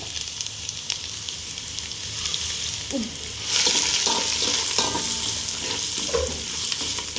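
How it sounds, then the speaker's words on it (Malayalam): Mustard seeds, onion and carrot sautéing in a hot pan for bread upma, a steady close sizzle with a few scraping stirs, growing louder partway through. "നന്നായിട്ട് ഇങ്ങനെ വഴറ്റണം"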